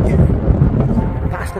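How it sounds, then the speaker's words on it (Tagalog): Strong, cold wind blasts across a microphone on a hilltop at Mt. Trashmore, a loud continuous rumbling buffet with muffled voices mixed in. "lakas ng hangin mga kaabos. Malamig."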